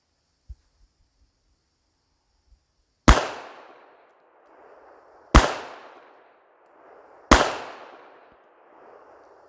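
Three sharp, loud pistol shots from a back-up handgun fired one-handed, evenly spaced about two seconds apart outdoors, each with a short echoing tail, after a few faint handling clicks.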